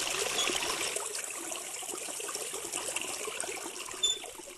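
Salt water is poured over samples of cement and Auric, a continuous trickling splash with a faint sharp tap near the end.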